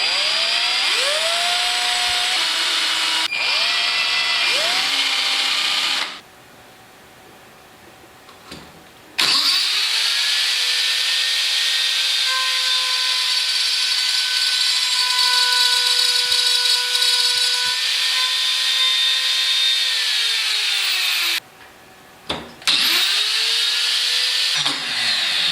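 A power tool cuts a keyhole-shaped slot into a wooden floating shelf. It spins up with a rising whine, holds a loud, steady high-pitched run, winds down, then starts again for a long cut and a final short burst.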